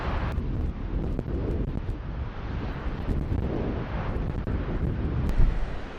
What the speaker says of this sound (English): the waves crash on the shore